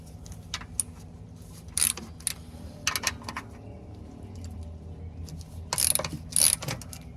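A hand ratchet working loose 16 mm bolts from the belly pan of a Caterpillar mini excavator, giving short bursts of rapid metallic clicking separated by pauses, close and fairly loud over a low background hum.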